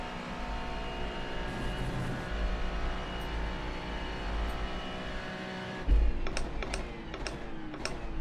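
Race car engine in the iRacing sim during a night stint of the 24 Hours of Spa, a steady sustained drone throughout with a brief louder thump and a few sharp clicks near the end.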